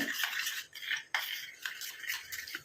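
A spoon stirring a homemade hair dye mixture in a bowl, producing quick, repeated scraping clinks against the bowl's sides, close and clear, with a sharp knock partway through.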